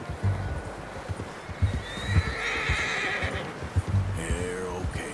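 Horse neighing in the open world of Red Dead Redemption 2, a loud whinny with a falling pitch rising over muffled hoof clip-clops and faint background ambience.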